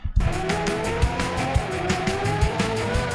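Synthetic car driving sound with skidding tires, rendered by a music-generation model: a steady engine drone with repeated rhythmic bursts and squeal-like tones, close and fairly loud throughout, no voices.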